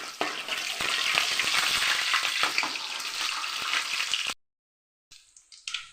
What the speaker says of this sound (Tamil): பூண்டு எண்ணெயில் வறுத்தா தான் நல்லா டேஸ்ட்டாக இருக்கும்